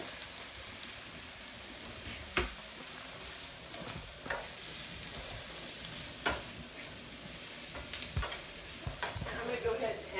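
Vegetables for spaghetti sauce cooking in a pan, a soft steady sizzle and crackle at low level, broken by a few louder stirring knocks and scrapes of a utensil, with no talking.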